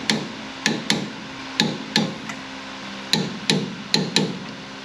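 Torque wrench clicking as 10mm bolts on a Firebird's front suspension are tightened in a cross pattern, a series of sharp metallic clicks in irregular pairs, close and fairly loud, with no talking.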